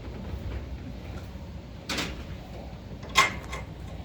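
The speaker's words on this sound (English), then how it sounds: "Did you just lock that door?" A door is shut and locked in a quiet room, giving two short sharp clicks or clunks, the second louder, over faint background hiss.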